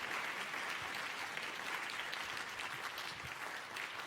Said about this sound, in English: Another warm round of applause for them.